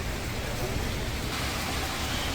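Steady, dense rain falling in Haryana after a spell of scorching heat, a constant close hiss with no pauses or individual drops standing out.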